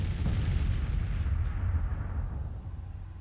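Artillery barrage in the Grand Tactician strategy game, a Civil War–era battle: a dense, loud, continuous rumble of cannon fire and booms with an early sharp report, slowly fading over a few seconds, no talk.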